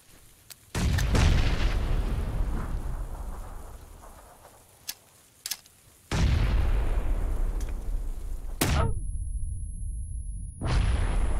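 Gunfire in PUBG on Xbox One comes as heavy booming bursts, with several loud sustained rumbles and a couple of short sharp cracks between them, and a high whine near the end.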